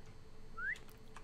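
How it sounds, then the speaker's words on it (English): A person gives a single short rising whistle, faint and brief, over low background noise with no speech. "I don't know why, but I've been whistling a lot,"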